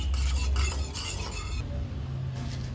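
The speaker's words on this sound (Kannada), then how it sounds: "ಚೆನ್ನಾಗಿ ಮಿಕ್ಸ್ ಮಾಡ್ಕೋಬೇಕು." Milk and milk powder being stirred together for a caramel pudding, a steady scraping swirl with a low rumbling undertone, close and continuous, no voices.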